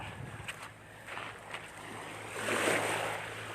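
Calm sea waves at the shore, a gentle wash of surf that swells into a longer soft rush toward the end, with light wind noise and no talking.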